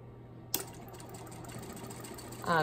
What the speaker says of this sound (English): simply feed that through our sewing machine